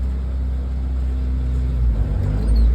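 A Suzuki Samurai's engine rumbles low and steady as the clutch engages and the vehicle starts driving forward, building slightly toward the end, close and continuous.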